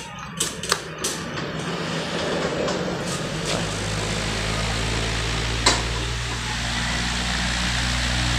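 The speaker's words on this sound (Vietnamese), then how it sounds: "mình không là không có nghe được cái tiếng của cái động cơ quạt á, mà mình chỉ nghe được cái tiếng gió thôi." A giant vertical industrial standing fan blowing strong air, a steady loud rushing whoosh with a low hum, preceded by a few clicks and knocks as it starts up.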